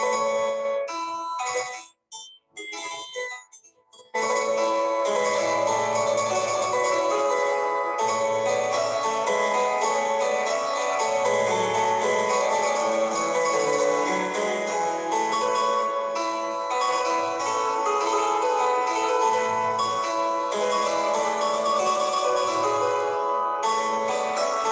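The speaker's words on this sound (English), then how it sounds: "This is actually a piece by François Couperin" François Couperin's keyboard piece Les Bergeries plays bright and steady. It opens with a few scattered notes, then flows continuously at a constant loudness with no talking.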